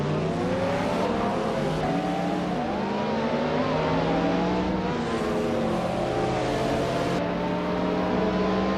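Modern street cars racing on a track, several engines droning and revving together in overlapping pitches, loud and continuous with shifting gear changes throughout.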